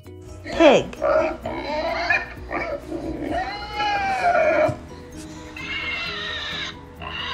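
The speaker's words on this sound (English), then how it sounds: "Pig." Pig grunts and squeals in a sequence of animal sounds, several rising and falling calls close and clear, mixed with whinny-like squeals over several seconds.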